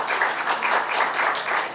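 An audience at a tribute celebration and awards event claps for a co-sponsor, a dense, steady round of many hands that rises and falls slightly in rhythmic swells, with no talking.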